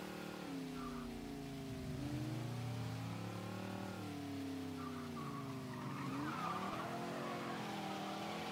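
A car driven in Mafia 3 Definitive Edition revs and shifts continuously while tires skid and squeal in several bursts, with the engine note rising and falling throughout.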